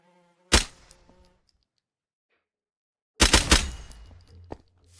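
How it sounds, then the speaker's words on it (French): In the video game From The Fog, a thin fly buzz hums briefly, then a burst of sharp, loud rapid hits breaks in after a stretch of silence. "J'ai envie de tuer cette mouche."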